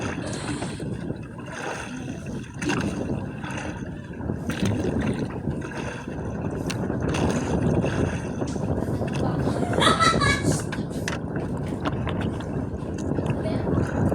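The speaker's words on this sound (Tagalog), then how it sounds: "Humangin-hangin ito ngayon." Steady wind gusts rush past a microphone on a boat at sea while squid fishing, with water lapping faintly beneath and swelling louder midway.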